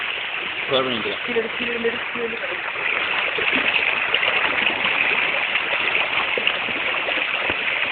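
Stream water flowing in a forest setting, a steady rushing hiss filling the whole stretch, with someone briefly speaking near the start.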